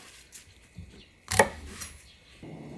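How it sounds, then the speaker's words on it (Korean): A kitchen knife slices off the stems of washed perilla leaves on a cutting board, with one crisp, sharp cut and a few faint taps and clicks around it in a quiet room. "여기 줄기를 꼬다리를 딱 잘라주세요"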